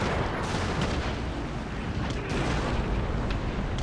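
Naval cannons fire repeatedly during a pirate sea battle in Empire: Total War, producing a dense, rumbling barrage of booms with sharp blasts layered over continuous roar.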